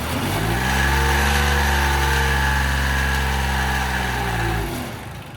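A Mitsubishi L3E three-cylinder diesel engine runs steadily and loud up close, with a loose, rattling clatter over a deep harmonic drone that holds for several seconds before dropping away near the end.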